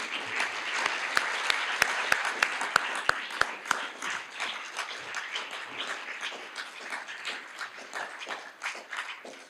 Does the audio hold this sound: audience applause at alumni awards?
yes